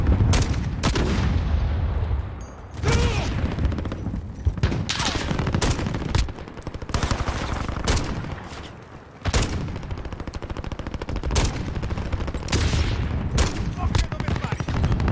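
Dense, rapid bursts of gunfire in Call of Duty: Warzone crackle almost nonstop, loud and close, with brief lulls and a voice talking beneath the shooting.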